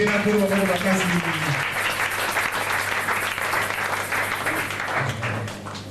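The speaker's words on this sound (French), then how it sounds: "Acclamez très fort le Seigneur." Congregation at a church seminar applauding and acclaiming the Lord, sustained clapping with a voice briefly heard over it at the start, fading slightly toward the end.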